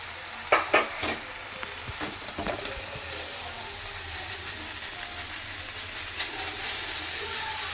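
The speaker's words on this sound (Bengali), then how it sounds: "এবার যে আমি ম্যাগিটা সিদ্ধ করে রেখেছিলাম সেটাই দিয়ে দিলাম।" Boiled Maggi noodles dropped into a hot pan with soy sauce, a few sharp clatters and thumps at the start, then a soft steady sizzle and hiss.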